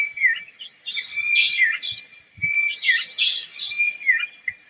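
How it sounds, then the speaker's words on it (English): A nightjar calls at night in India, repeated rapid chirping phrases rising and falling, clear and fairly close, with faint insect trilling and scattered low background sounds. "It's a different species of nightjar."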